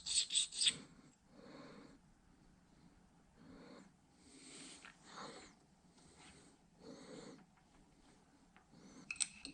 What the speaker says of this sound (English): I'm going to just put a little bit of a hone on the cutting edge of this tool.